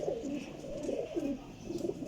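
Parwazi pigeons coo in low, throaty, repeated rolling phrases, fairly close and steady, with no talking over them.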